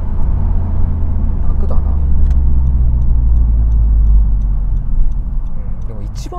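A Honda FK7 Civic hatchback running an HKS ECU retune accelerates with a steady, loud engine drone and road rumble from inside the cabin, while someone talks over it.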